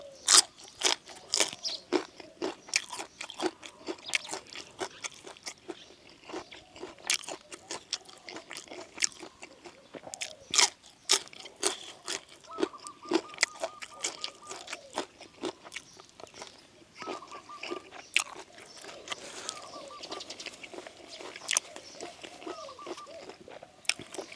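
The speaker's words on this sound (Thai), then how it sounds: "ฟังเสียงหย่ำพี่นองกรุบกรุบเลย" Close, crisp crunching of someone chewing fresh garden vegetables with a spicy snail salad, with rapid irregular bites and moist munching continuing throughout without talk.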